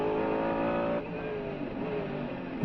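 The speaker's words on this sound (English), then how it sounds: "The Mercedes flying in pursuit of" A Mercedes CLR-LM race car at speed on a track, its engine a loud sustained roar with steady high-pitched harmonics and a brief drop in pitch partway through as it holds full throttle.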